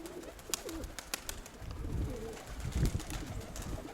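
Pigeons coo softly and repeatedly at close range, with low throaty warbles over a background of rustling and faint ticks.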